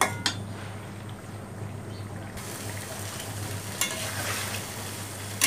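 Whole olives with spices and vinegar being stirred in a hot pan for a sweet-sour pickle, a soft steady sizzle with light scraping and clinks of the spoon close by.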